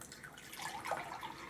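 Liquid nutrient solution trickles and pours softly into an indoor garden's water tank, faint and close, with a gentle gurgling rise partway through.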